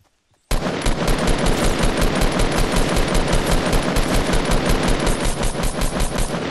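A long, loud, continuous burst of rapid automatic gunfire in Fortnite starts abruptly after a brief silence and keeps hammering without a break.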